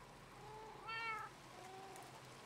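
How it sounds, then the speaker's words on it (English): Several cats in a video game meow at once in a brief, bright chorus of overlapping calls, fairly close and standing out over a faint background hum. "They all meowed out at once. That was kind of creepy."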